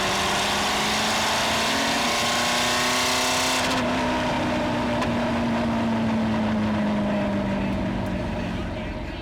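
Ford GT40 Mark II racing car engine roaring loudly nearby, holding a steady high-revving drone and then easing slightly in pitch, with voices faintly mixed into the sound.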